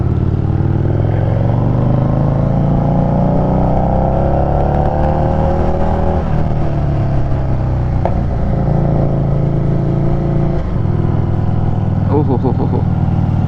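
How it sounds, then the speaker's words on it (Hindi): A Harley-Davidson motorcycle engine drones steadily and loud while riding on a group ride, with rising and falling pitch through turns and wind rumble throughout. "ओहो बाइक की आवाज़ ना भाई साहब, मज़ा आ जाता है"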